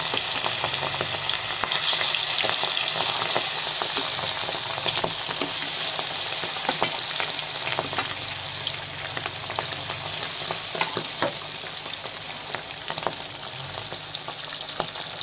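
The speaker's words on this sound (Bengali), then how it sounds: "তেলটা গরম হয়ে গেছে, আর এই যে মাছ ভেজে নেব।" Fish frying in hot mustard oil in a wok, a steady dense sizzle that runs the whole time with scattered crackles and pops, loud and close with no talking.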